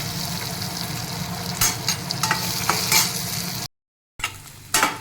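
Chopped onion frying in a pan for radish chutney, a steady close sizzle broken by clattering stirs of a spatula, with a brief silent gap near the end.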